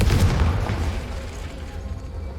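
A Confringo spell explosion in the video game Hogwarts Legacy, a loud deep boom already rolling at the start that fades steadily over about two seconds.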